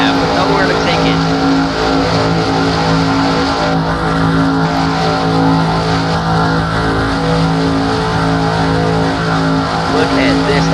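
Dense, steady roar of many race car engines drafting bumper to bumper at high speed at Talladega, loud and constant, with a commentator talking over it.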